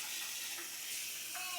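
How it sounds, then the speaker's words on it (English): Cold water pours from a tap into a pot of boiled saltfish, a short, soft, steady gush with no talking. "Add some cold water"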